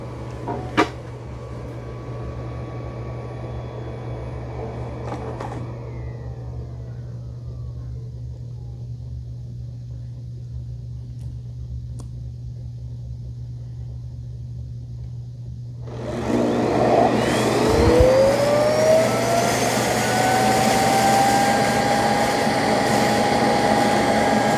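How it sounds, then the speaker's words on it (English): A Shark PowerDetect self-empty robot vacuum (AV2820AE) docks at its base and auto-empties, a steady motor hum and whir giving way to a louder, rising suction roar that holds near and constant. "it's going to come back to the docking station, dock itself, and auto empty everything that it picked up inside it"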